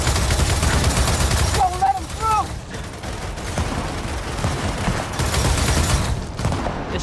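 Bursts of rapid gunfire in a Gears of War 4 firefight, loud and dense, with brief tonal game effects mid-way and continuous shooting throughout.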